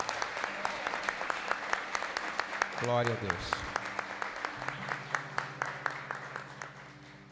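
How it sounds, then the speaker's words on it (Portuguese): Church congregation applauding during a service: rapid rhythmic clapping throughout, mixed with a spoken voice and a brief sung or shouted phrase in the middle. "E eu queria que todos vocês demais levantassem um aplauso pela vida desses homens e mulheres"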